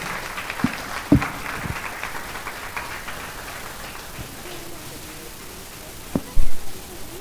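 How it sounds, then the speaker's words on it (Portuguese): A church congregation gives a round of applause during a service, a soft wash of clapping with a few sharper claps and a louder burst near the end. "Dê uma salva de palmas ao Senhor"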